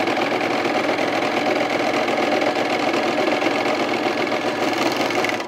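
A sewing machine stitches pajama bottoms in a steady, continuous whir with a fast mechanical chatter, running close and unbroken throughout.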